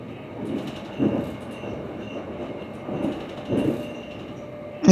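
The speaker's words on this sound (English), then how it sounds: "And we're slowing to stop at the station here." Leo Express passenger train slowing to a stop at a station, heard from inside as a low rumble with periodic wheel clunks over rail joints and a faint squeal near the end, no talk.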